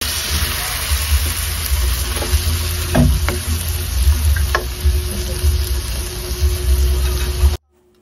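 Chicken pieces sizzle and fry in a pan for chicken curry soup, a steady close crackling hiss with a few clinks of stirring before the sound cuts off abruptly.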